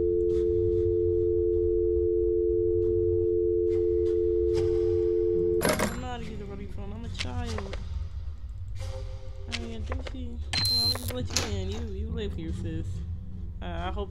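A steady telephone dial tone hums alone for several seconds in the horror game That's Not My Neighbor, then cuts off as a voice starts talking over short electronic beeps.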